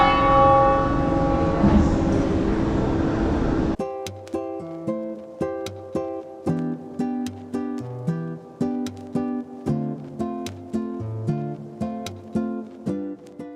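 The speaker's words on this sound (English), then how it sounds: "At the top, we were greeted by the bell." A church bell on the rooftop of Barcelona Cathedral rings in a steady series of loud, resonant strikes with long ringing decay, following a brief burst of crowd noise.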